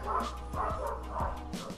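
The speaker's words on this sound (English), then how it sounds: "Why are the dogs going mad for?" Several dogs bark in quick repeated bursts, loud and close, with yips mixed into the barking.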